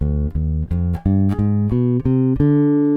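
A clean bass guitar plays a rising D harmonic minor scale of eight plucked notes at an even pace, each ringing briefly before the next.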